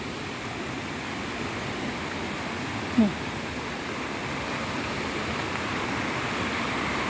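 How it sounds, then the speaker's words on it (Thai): A waterfall in full flow, swollen with lots of water, gives off a steady, dense rushing roar that stays even throughout, with no voices over it. "ดูน้ำมาเที่ยวน้ำตกหน้านี้นะ ดีมากเลยนะตอนนี้ น้ำเยอะมาก"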